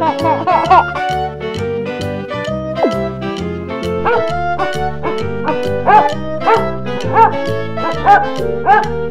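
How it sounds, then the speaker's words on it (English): A small dog yips and barks repeatedly in quick, uneven bursts, close and loud, with some whimpering between the barks and a voice faintly mixed in. "Dog."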